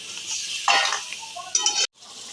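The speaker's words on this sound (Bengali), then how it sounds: "জল দিয়ে নাড়িয়ে নিচ্ছি ব্যাপারটা" Egg curry masala with added water is stirred in a pan over a steady sizzling hiss, with soft scrapes and a brief clink before a short cut near the end.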